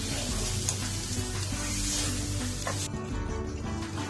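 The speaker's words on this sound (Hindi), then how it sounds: "गोश्त को सारे मसालों के साथ भून लिया है" Beef for biryani fries with spices and tomato in a pot, giving a loud, continuous sizzle with occasional stirring scrapes close up and no voices.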